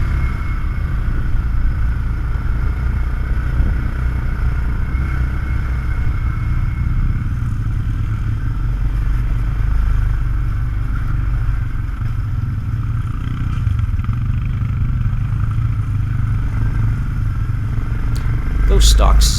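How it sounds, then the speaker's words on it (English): Several stock-muffled Suzuki King Quad ATV engines, 500 and 700 models, rumble steadily and throatily at an ATV/UTV poker run, a continuous low drone lasting the whole stretch and swelling louder near the end. "Those stock Suzuki King Quad mufflers sound pretty throaty."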